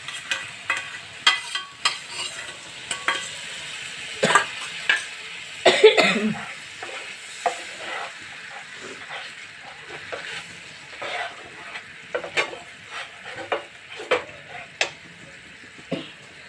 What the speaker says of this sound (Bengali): মশলার প্লেটটাকে ধুয়ে একটু জল দিয়ে দিচ্ছি।